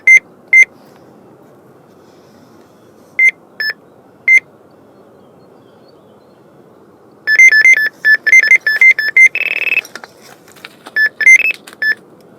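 Electronic carp-fishing bite alarm on a rod by the water, giving a few isolated high beeps, then a rapid run of continuous beeping as a fish takes line, with no talking.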